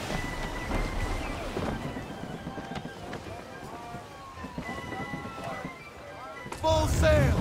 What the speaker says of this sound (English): Rogue wind! Fall into half sail!